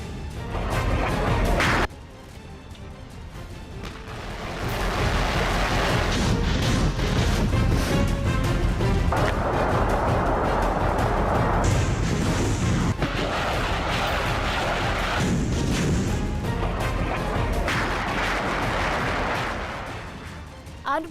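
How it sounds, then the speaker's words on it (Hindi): Russian artillery and missile fire, hundreds of shells in seconds: a dense, continuous roar of blasts and booms, loud and sustained for most of the stretch after a short quieter opening. "कुछ ही सेकंड में सैकड़ों गोले दागकर रूस की सेना ने अपने तोपखाने और अपनी मिसाइलों की ताकत दिखाने की कोशिश की।"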